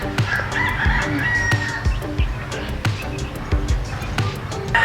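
A rooster crows a couple of times over busy farmyard noise with scattered knocks and thumps, fairly close and loud.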